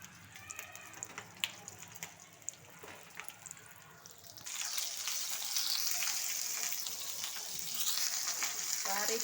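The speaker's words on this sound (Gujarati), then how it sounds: "એ મરચાં આપણા તળવા માટે હું મૂકી રહી છું." Stuffed Kathiyawadi green chilies go into hot oil in a pan, soft clinks and handling at first, then a sudden surge into a steady bright sizzle that continues strongly.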